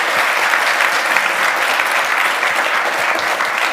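An audience at the ZuriHac 2023 opening presentation breaks into dense, sustained clapping, loud and even from start to finish with no voices over it.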